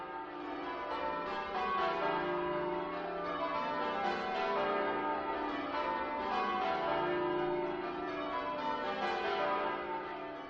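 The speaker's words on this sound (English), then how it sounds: "St Mary's ringers made sure the bells had a good send-off by ringing a quarter peal after the Remembrance service." Church bells of St Mary's ring a quarter peal after a Remembrance service, a continuous, steady stream of overlapping tolls that carries on without pause for the whole stretch, with no voices.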